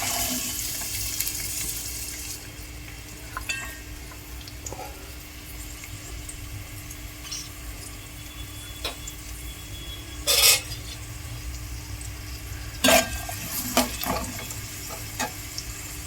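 Chopped onions fry in hot oil for a Telugu taro root curry, giving a steady close sizzle with a few brief louder hissing bursts and clinks partway through.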